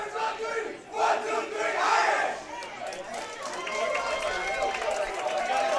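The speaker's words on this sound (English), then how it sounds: "That would have been Cathedral in the background there with the team cheer" A high school boys bowling team shouts a loud, sustained group cheer in the background at a state tournament stepladder final, with crowd noise and excited voices rising and falling for several seconds.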